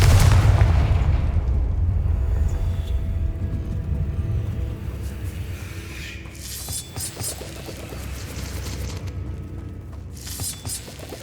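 A fire spell explosion in Hogwarts Legacy hits with a loud, deep boom at the start, then a long rumbling decay, with sharper crackling bursts a few seconds later.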